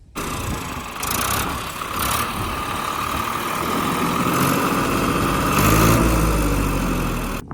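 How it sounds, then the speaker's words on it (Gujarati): A tractor engine runs steadily at idle after a fresh fill of engine oil, a close, continuous low rumble with a slight swell in loudness near the end and no voices. "નવું ઇન્જિન ઓઇલ ચડી જાય એટલે થોડીક વાર ટ્રેક્ટરને ચાલુ રાખે"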